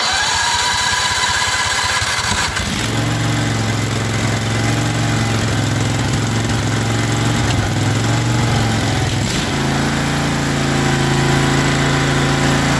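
Old John Deere lawn tractor engine cranks and fires up, then settles into a loud, close, steady running drone with slight surges in pitch, no talk over it.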